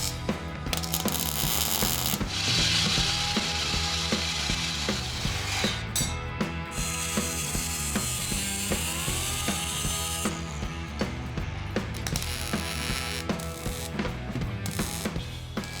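A power tool cuts off the end of a metal part in a custom garage, a continuous loud grinding whine with harsh high-pitched rasps and shifting pitch, running throughout without talk.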